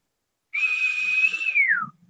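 A single person whistles one sustained steady note lasting over a second, then slides it downward to finish, heard alone and close with no talk.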